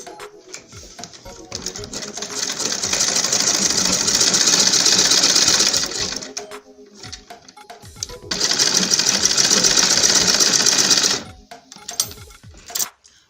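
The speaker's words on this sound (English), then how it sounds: "So I'm going to stitch the lining to 1/2 inch." A sewing machine stitches the lining of an Ankara fabric makeup bag at a half-inch seam, running close and steady in two long bursts with a short pause between them and no talk.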